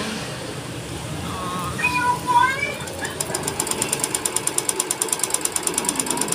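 A Jaguar embroidery sewing machine starts up after some brief fiddling and runs with a fast, regular mechanical stitching clatter, close and steady, while a person talks near it.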